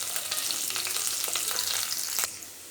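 Onions and dried red chillies fry in hot oil with urad dal for Tamil egg rice, giving a steady, close, bright sizzle with a few stirring clicks near the end and no talking.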